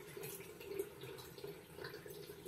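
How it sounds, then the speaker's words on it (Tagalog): Mineral water poured over tulingan fish in a cooking pot, a steady close splashing trickle that runs continuously without pause and without talk. "sasabawan natin siya ng mineral na pantay lang dun sa isda"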